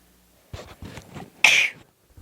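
A single sharp sneeze bursts out close and loud after a few soft shuffling and rustling sounds, then the room falls quiet.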